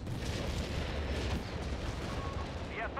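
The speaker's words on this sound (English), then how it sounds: "Where's the artillery coming down?" Artillery booms and rumbles through a 3v3 battle on the Montherme map in Company of Heroes 3. The heavy low-end roar is continuous and dense, with shell impacts layered over one another and a brief chirping effect near the end.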